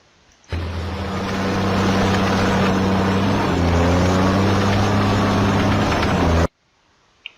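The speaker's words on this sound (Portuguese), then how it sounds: "Um trator." A heavy tractor engine drones loudly and steadily with a deep rumble, its pitch shifting slightly midway, starting and stopping abruptly.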